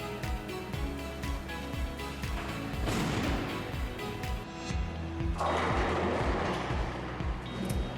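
Bowling ball thrown down a lane, a rumbling roll building over several seconds before a crashing scatter of pins near the end, heard from a bowling alley with steady background din and no talk.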